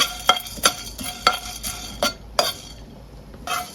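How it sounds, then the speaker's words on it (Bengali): Cardamom, black pepper, cloves and cinnamon are dry-fried in a pan, with sharp rhythmic scrapes and clinks as a spatula stirs them about once every half second, close up. A faint crackle sits between the strokes. "এখানে আছে প্রায় 8-10টার মতো এলাচ, সাথে আছে গোলমরিচ, লবঙ্গ, দারুচিনি, সবকিছু দিয়ে এখন ভেজে নিব।"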